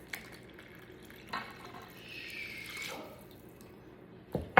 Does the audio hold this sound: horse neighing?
no